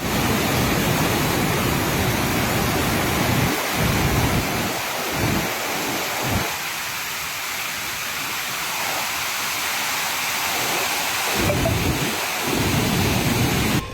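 Rainwater released from Saroi dam rushes down the Sabarmati river in a steady, loud broadband roar that fills the whole stretch without letup.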